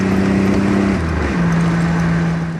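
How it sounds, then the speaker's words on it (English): A 1987 Buick Grand National with its 3.8 turbo V6 pulls hard as the turbo spools, a loud, close engine drone with a rising whine and a pitch shift as it accelerates, no talk over it. "Turbo hits."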